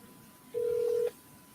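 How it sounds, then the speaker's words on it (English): One steady telephone dialing tone, a single clean beep about half a second long, heard alone over faint background hiss during an attempt to place a phone call. "Let me see if it will make the phone call"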